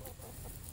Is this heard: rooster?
yes